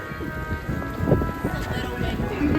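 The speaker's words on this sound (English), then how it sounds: "it started to hail" Hail and rain fall hard in the gardens at Versailles on a suddenly windy day, a loud, dense patter with scattered sharp impacts and gusty rumble, continuous and close.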